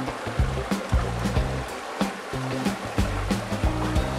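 A water wheel in a small home hydro power plant turns under rushing water, with a steady flow and rhythmic knocks and low hums repeating roughly every half second.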